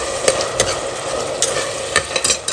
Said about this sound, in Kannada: ತುಪ್ಪ ಮತ್ತು ಎಣ್ಣೆ ಹಾಕ್ಕೊಂಡಿದ್ದಲ್ಲ ಅದರಲ್ಲಿ ಹುರ್ಕೋಬೇಕು